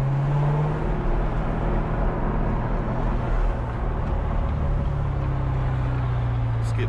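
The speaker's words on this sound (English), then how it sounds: "you can hear that supercharged V8 in there just humming away" A supercharged V8 engine in a Corvette hums steadily with a deep, low rumble, continuous and close, with no talking over it.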